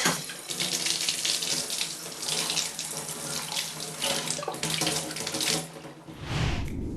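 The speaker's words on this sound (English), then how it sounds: "After that, you're going to need to rinse them. If you have a sink-mounted sprayer," Winemaking bottles are rinsed under a sink-mounted sprayer, a loud continuous rush and spatter of water that shifts in tone as the flow strikes the bottles, then drops away near the end.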